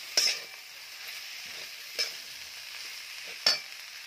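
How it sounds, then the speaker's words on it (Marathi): Sautéed ghevda green beans being stirred in a hot pan, a faint continuous sizzle broken by three sharp utensil scrapes at even intervals, no voices. "छान मिक्स करून घेऊया."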